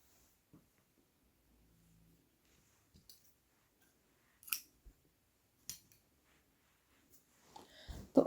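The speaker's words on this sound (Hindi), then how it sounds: "धागा काट देंगे" Scissors snip through crochet yarn in a quiet room during work on a woollen baby sweater, giving a few short faint clicks and cuts spread apart, with a louder snip near the end.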